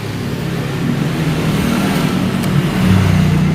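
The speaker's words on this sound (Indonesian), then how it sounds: "tanpa pakai aki bisa hidup gak ini motor" A Honda Mio J motorcycle with its battery disconnected and a full-wave charging conversion using an NMAX regulator runs with a steady, close, loud engine hum that swells slightly toward the end.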